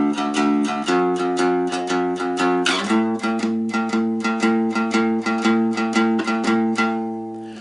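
A one-string cigar box guitar, or diddley bow, plays a song line of plucked single notes at a steady rhythm, each note ringing bright and close with a droning low tone beneath, fading at the end.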